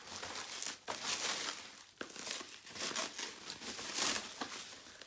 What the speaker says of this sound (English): Opening this bubble wrap end, so this can just unwrap.